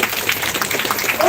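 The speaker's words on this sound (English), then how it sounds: "Clap for them." Campus event audience at SRM IST Vadapalani clapping briefly, a loose patter of hands with some talk mixed in over the short burst.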